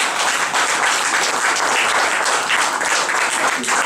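Dense, steady applause from an audience at a twenty-fifth anniversary international salon event, continuous and loud throughout with no talk rising above it.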